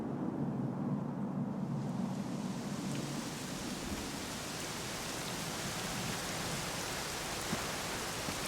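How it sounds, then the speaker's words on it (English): Steady rain falls in the video game Dragon Quest XI S, a dense, even hiss of drops that stays constant throughout, with a faint low rumble at the start and no voices. "it was raining like this the last time I ever saw her."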